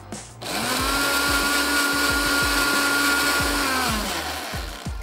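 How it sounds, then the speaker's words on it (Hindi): A kitchen blender whirs loud and steady as it blends mango ice cream with ice cream syrup, starting after a brief pause and winding down near the end, with no talking. "अच्छा सा ब्लेंड कर लेते हैं।"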